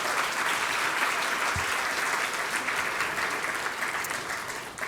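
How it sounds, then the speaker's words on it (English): Audience applause at a parents' talk event. Dense, steady clapping fills the whole stretch at a fairly even level and fades slightly at the end. "So can we give him a round of applause for all those other things as well?"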